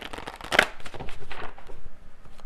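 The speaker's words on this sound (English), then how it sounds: "I'm going to get one final card here from this deck" A single card pulled from a tarot deck, a quick papery slide and snap amid soft handling rustles, close and brief.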